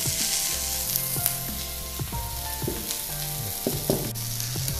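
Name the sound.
pan-frying food until the surface browns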